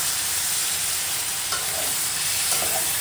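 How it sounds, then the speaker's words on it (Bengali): Cabbage and fish head curry sizzling in a pan as water is added, with steady frying hiss and occasional spoon scrapes from stirring. "জল দিয়ে নাড়িয়ে চাড়িয়ে আবারও ভালোভাবে কষিয়ে নিচ্ছি।"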